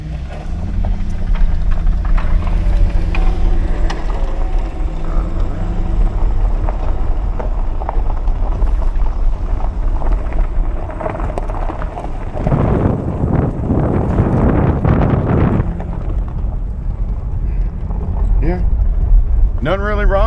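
A 2008 Cadillac XLR with a check engine light on is driven off, its engine and road noise a steady close rumble with a heavier surge midway, while people talk over it.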